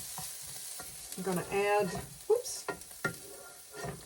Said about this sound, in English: As y'all can probably hear, my onion is sizzling away